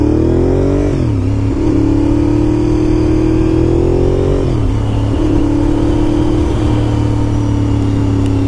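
A 2001 Honda RC51 V-twin motorcycle engine runs loud and close throughout, its pitch climbing steadily under throttle and then dropping back twice before rising again.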